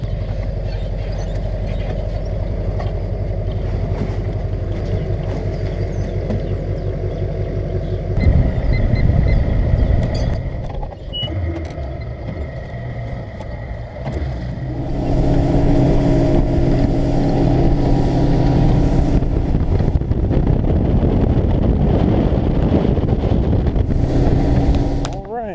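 A boat motor runs steadily on Lake Jacksonville in Texas, loud and close with a constant engine drone that shifts in pitch partway through as the boat changes speed.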